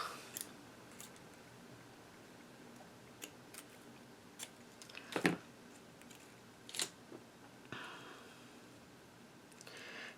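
Quiet snips and clicks as card stock is cut in half with scissors for handmade Easter cards, a few sharp isolated cuts spaced out over soft room noise.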